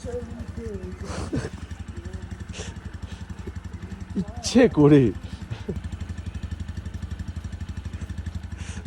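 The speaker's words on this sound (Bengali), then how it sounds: "ওখানে বাইক স্টাইক সব কোল্ড স্টার্ট হচ্ছে" Motorcycles cold starting and idling early on a cold morning at Lachen, a steady low engine chug running throughout, with a person talking over it and a brief louder burst near the middle.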